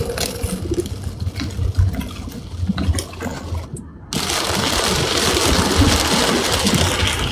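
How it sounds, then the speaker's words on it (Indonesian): Heavy rain pours down in a dense, steady hiss and patter, loud and close. It briefly dips before surging into a constant heavy downpour that fills the rest of the stretch, with no talking. "ini hujan deras, suaranya pasti gak jelas ini"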